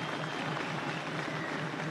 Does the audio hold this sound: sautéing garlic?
no